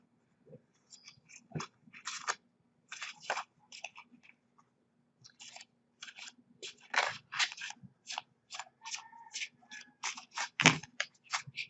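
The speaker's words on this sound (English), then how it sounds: "let's draw your work and money tarot" Tarot cards are shuffled and drawn by hand in a quiet room, a series of soft, crisp papery snaps and riffles in irregular bursts, close and fairly faint, growing busier toward the end.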